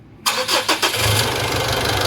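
A 2011 Mitsubishi Pajero Sport 4WD diesel engine cranks a few times with quick chugging pulses, then catches and settles into a loud, steady idle close by.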